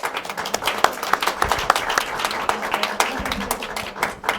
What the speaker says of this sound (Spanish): aplauso del equipo